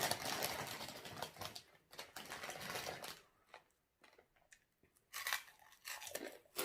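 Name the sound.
crunchy chewing while eating smoked pork and som tam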